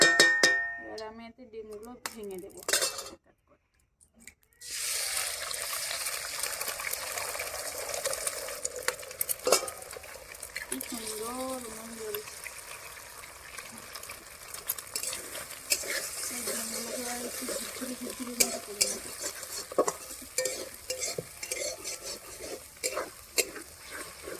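Chowmein noodles frying in hot oil at home, a loud continuous sizzle with constant spatula scraping and clinking against the pan, briefly cut to silence near the start, then resuming steadily up close.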